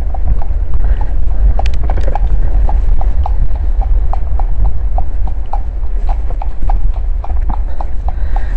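Horses' hooves clip-clop on a paved road in an even, close rhythm of sharp knocks over a steady low rumble of wind or traffic, with no talk heard.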